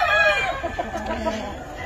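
A Dog Island rooster on a small farm gives a loud, close crow that stretches across the first second and trails off into softer clucking and faint background noise.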